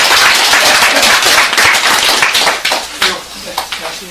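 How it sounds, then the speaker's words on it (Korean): Lecture-hall audience giving a big round of applause for a guest speaker, dense and loud clapping that thins toward the end into a few scattered individual claps. "큰 박수를 합니다."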